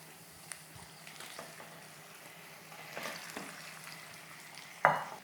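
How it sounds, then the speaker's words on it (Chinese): Chicken stir-frying in sesame oil in a clay pot: a quiet, steady sizzle with light scraping and stirring, and a sharp clatter near the end. "你就爆香了就可以下鸡肉了啊"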